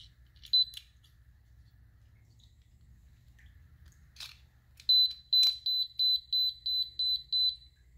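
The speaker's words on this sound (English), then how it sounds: "you're going to hear beeping." A teeth whitening light beeps after its battery is reinserted: a few scattered chirps, then a regular run of about eight short, high electronic beeps, clear and close in an otherwise quiet room.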